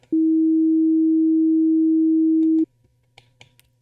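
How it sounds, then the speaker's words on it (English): A pure, steady low sine wave tone generated in Unreal Engine 5 MetaSounds holds unbroken for about two and a half seconds, then cuts off abruptly, leaving faint clicks and rustles. "So you can hear now, this sine wave goes on forever."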